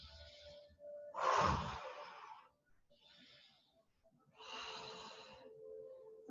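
Slow, deliberate breathing during a Pilates exercise, with audible inhales and exhales in separate breaths, one fuller and louder near the start and a long steady exhale later, close to the microphone.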